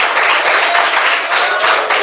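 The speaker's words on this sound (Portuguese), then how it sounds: "Quem bate palmas?" A church congregation claps hands together in a steady, dense wash of applause, loud and continuous throughout with no break.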